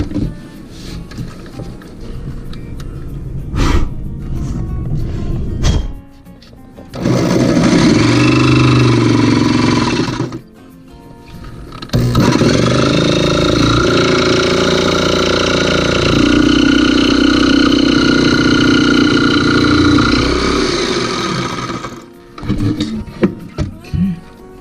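Reciprocating saw buzzing through material during a microwave rangehood and duct installation, two loud close runs of several seconds and about ten seconds, separated by a brief stop.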